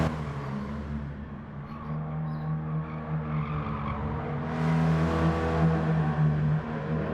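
A race car engine runs steadily with a deep harmonic drone, its note rising and swelling louder in a rev partway through, with no talking.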